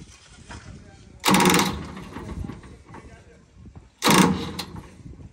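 A Swaraj 963 FE tractor with a broken silencer roars loudly in two strong bursts as the throttle is revved, dropping back to a rough idle in between, with a voice talking faintly underneath.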